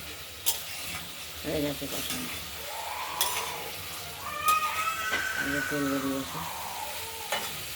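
Giant river prawns fry and get stirred in masala in a pan with steady close sizzling and scraping, while a cat meows and yowls over it several times.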